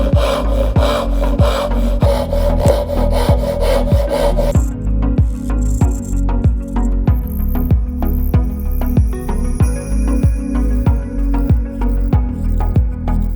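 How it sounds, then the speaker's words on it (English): Hand saw cutting mitred dovetails in wood for a keepsake box, steady rhythmic back-and-forth strokes rasping at an even pace, close and continuous, with a slight change in tone partway through. "we can sort of angle the saw in order to ensure that we're cutting plumb, and then focus on nice long movements going down to the baseline"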